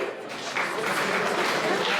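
A live audience in a Montreal venue breaks into brief applause, a dense patter of clapping with a few voices mixed in, steady and moderately near for a couple of seconds.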